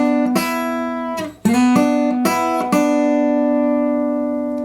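Acoustic blues guitar lick, a few plucked and slid notes played close up, with a bright string attack on each pluck and a final note left ringing alone.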